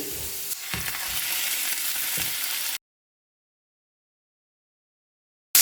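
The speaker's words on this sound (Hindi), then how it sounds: "अब इसमें मैं चिकन डाल दूँगी" Finely cut boneless chicken pieces dropped into frying garlic, a dense loud sizzle with a few stirring knocks for under three seconds, then abrupt silence before a brief burst at the end.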